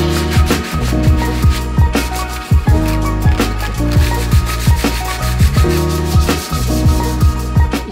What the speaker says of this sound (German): Das mache ich dann mit dem groben und ganz am Ende gehe ich mit einem feinen Schleifpapier nochmal